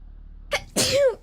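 A person sneezes once up close during a board game of Terraforming Mars, a short intake followed by a sharp, loud burst against a quiet room.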